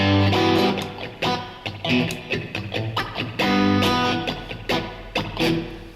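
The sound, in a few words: guitar rhythm being played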